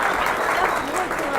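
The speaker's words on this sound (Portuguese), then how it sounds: "mais palmas aqui, cara" Crowd applause at a politician's speech in Santo André, dense sustained clapping with cheering voices mixed in.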